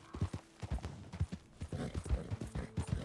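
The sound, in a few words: horse hooves galloping in a video game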